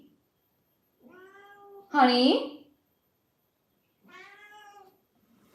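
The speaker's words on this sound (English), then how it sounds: "She just needs to stop meowing." A cat meows several times, with a louder, drawn-out caterwauling cry in the middle, close by. A person speaks briefly near the start.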